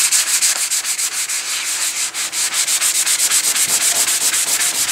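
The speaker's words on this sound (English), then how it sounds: "you can use these sponges for wet sanding" Steady rhythmic strokes of a sanding sponge wet sanding along a tank seam crack, close and loud, a brisk back-and-forth rasp with no talk.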